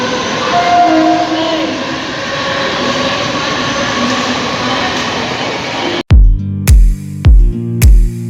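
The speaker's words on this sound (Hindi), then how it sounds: "वो जो सामने वाली ट्रेन आप जाते हुए देख रहे हैं she is heading toward I think Vashi" Mumbai local train departing Rabale station toward Vashi: a loud, steady rumble of carriages passing close by, then the sharp rhythmic clack of wheels over rail joints repeating several times.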